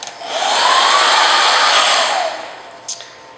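A hair dryer blows steadily up close for about two seconds, then winds down and switches off, followed by a small click.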